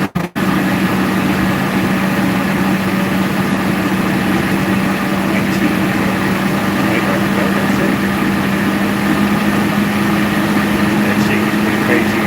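An engine runs steadily near its maximum RPM with limited intake, producing a loud, constant droning hum with heavy vibration, close up and unbroken for the whole stretch.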